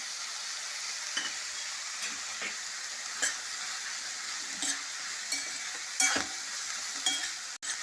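Onions frying in a pan with cinnamon sticks and cardamom pods for a restaurant-style paneer mixed vegetable curry, a steady close sizzle with intermittent stirring scrapes and light utensil knocks throughout.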